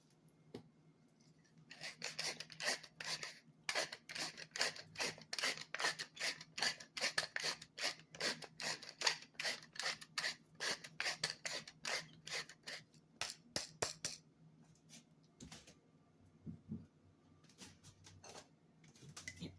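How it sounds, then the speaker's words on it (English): A pepper grinder cracks black peppercorns in quick repeated twists, a rapid series of dry rasping crunches close to the microphone, fairly quiet, tapering into a few slower scrapes at the end. "I like a lot of pepper, so I'm going to try to grind a little bit more pepper in."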